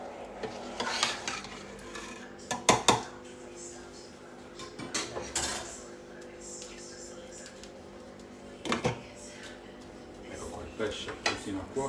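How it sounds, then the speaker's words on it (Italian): Metal lids clank onto cooking pots in a kitchen during Sardinian cooking, a few sharp bright clatters amid stirring, faint sizzling and occasional talk. "Copriamo le nostre pentole."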